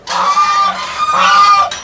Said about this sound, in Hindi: बत्तख भी पाली हुई है भाई साहब, बड़ी सुंदर है